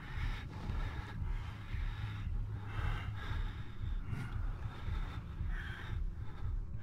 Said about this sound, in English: Yeah, heavy breathing.